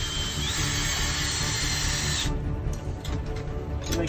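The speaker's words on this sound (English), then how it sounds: "This is the drill and the fancy dancy little bit that attaches to the anchor and allows me to" A cordless drill drives an ice anchor into ice with a loud, steady whirring whine for a couple of seconds, then slows and stops, leaving faint rustling.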